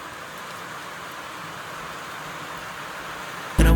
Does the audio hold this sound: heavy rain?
yes